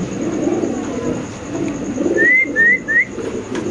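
Spanish pigeons at a pigeon farm, with soft low cooing running throughout and a few brief, bright bird calls near the end, moderately close with steady background noise.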